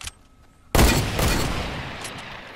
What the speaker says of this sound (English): I'm just shooting the supply drops